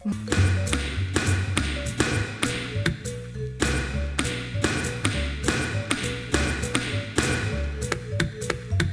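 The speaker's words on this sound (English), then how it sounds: "Now we are doing a diving minigame, and the feet slapping noises are amusing." Rhythmic run of sharp taps and slaps from feet in a video game diving minigame themed on a British TV show, repeating steadily over a constant backing track with no talk.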